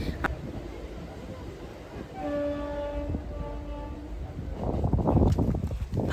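A train horn sounds a sustained harmonic blast for a couple of seconds over steady station rumble, followed by louder rattling and clatter.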